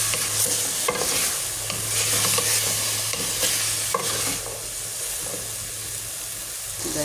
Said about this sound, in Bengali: এখানে পেঁয়াজ রসুন মুরগিটা ভাজা হয়ে গেছে, তেল দিয়ে শুধু ভেজে নিচ্ছি